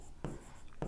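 Pen scratching on paper during an accounting exercise, two short faint strokes a fraction of a second apart.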